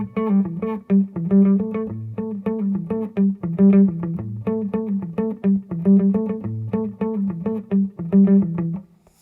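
A clean electric guitar plays a repeating blues riff, steady alternate-picked notes in a bouncing rhythm with no voices.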